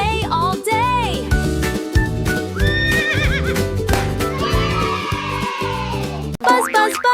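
A horse neighs with a bright, whinnying cry inside a bouncy children's animal song, riding over steady music and boing-like effects throughout.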